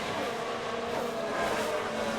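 Formula 1 cars racing and overtaking in F1 Manager 2022: a steady, loud, high engine drone that holds throughout without a break.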